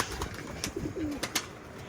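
Young pigeons in a coop give a few soft, low coos close by, with faint rustling and small taps around them and no speech.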